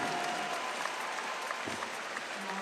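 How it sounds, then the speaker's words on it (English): A crowd at a women's bouldering final in Bern applauds climber Melody as she leaves the wall, with steady, dense clapping throughout and faint background voices. "So Melody will leave with a round of applause"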